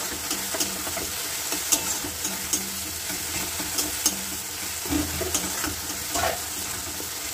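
Spices sizzle and fry in a pan for a Bengali boyal fish curry, with a spoon stirring and scraping at irregular intervals against a constant soft hiss, close and fairly quiet.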